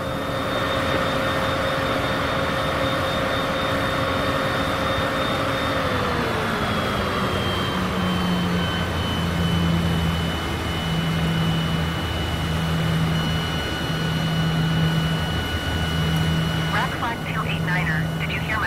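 Aircraft engine drone in Microsoft Flight Simulator 2020 while taxiing to parking at Port Harcourt, Nigeria: a constant loud hum whose tone drops midway as power is reduced, with a steady pulsing beneath and no voices.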